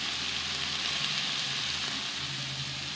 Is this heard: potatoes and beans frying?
yes